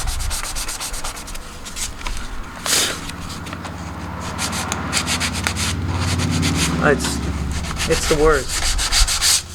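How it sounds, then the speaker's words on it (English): Sandpaper rubs back and forth over the body panels of a Subaru BRZ build, a close, repetitive scratchy sanding rhythm throughout with a person speaking briefly over it. "I can see where my sandpaper's not hitting these points"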